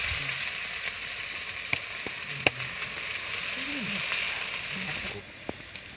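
Food frying in a kadai at an outdoor rainy-day picnic, a strong continuous close sizzle with crackles and stirring scrapes, while a voice speaks briefly in the background before the sizzle cuts off near the end.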